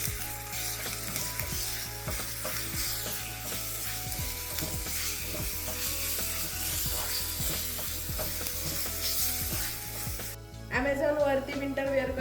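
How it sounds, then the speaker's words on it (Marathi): Ginger garlic paste sizzling as it is fried in a pan for corn patties, giving a dense, steady frying hiss with regular scraping strokes, close and moderate, until a voice briefly talks near the end. "त्यातच आपण हे आलं लसून घ्यायची ती पेस्ट पण परतून घेणार आहे"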